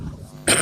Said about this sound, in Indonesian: Wih, batuk dia.